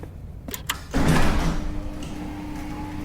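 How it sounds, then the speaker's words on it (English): A shuttle bay door in a science-fiction setting opening slowly: a few clicks, then a heavy mechanical slide and groan that swells loud and fades into a lingering straining hum. "The door slowly opened, strained and groaning."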